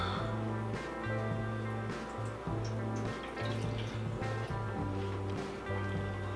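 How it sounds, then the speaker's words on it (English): Tap water runs steadily into the water pan of a Chefman indoor smokeless grill, a soft continuous trickle with light splashing over a low background hum. "let's get our water pan filled up."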